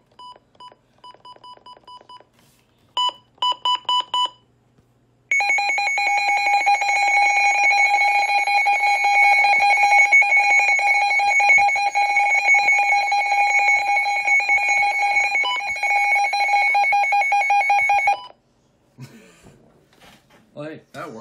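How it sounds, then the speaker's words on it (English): A Midland WR300 weather radio gives a few short bursts of electronic button beeps, then a loud, steady siren test tone that holds for about thirteen seconds before cutting off. Quiet sounds follow at the end. "that is the button beeps and the siren test on that"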